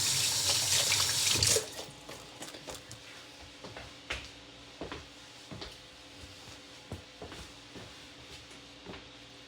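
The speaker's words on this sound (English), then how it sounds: "Let me rinse my hands." Kitchen tap water runs hard into a sink for a second or two while hands are rinsed, then cuts off, leaving scattered close drips, taps and small clatters, with no talking.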